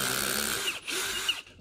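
A power drill drives a 1/4-20 combined drill, tap and countersink bit, its motor whining steadily for over a second before dipping briefly and surging again as the bit cuts, close and fairly loud with no talk.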